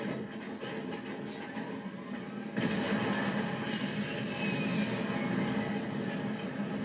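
Helicopter flying in the Fortnite video game, a steady rumbling rotor and engine drone that holds at moderate loudness throughout and swells slightly partway through, with no talking.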